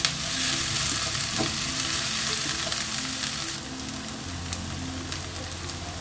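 Dried Bombay duck (loitta shutki) frying in a pan, a close, steady sizzle with occasional stirring scrapes and light crackle all the way through.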